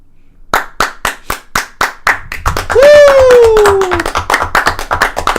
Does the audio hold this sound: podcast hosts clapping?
yes